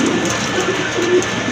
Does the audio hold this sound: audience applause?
no